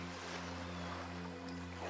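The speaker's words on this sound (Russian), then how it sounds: "Это эхо от волн." Ocean surf on a beach washes in as a steady, continuous roar with a low droning hum underneath, with no voices.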